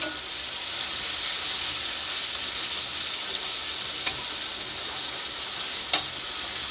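Cumin paste fries in a pan for butter garlic chicken, giving a steady, close sizzling hiss with a couple of brief clicks of stirring.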